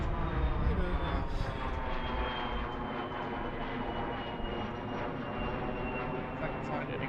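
A jet airliner departs overhead at Philadelphia airport, its engines producing a loud, steady roar with a thin whine throughout, heard close and continuous.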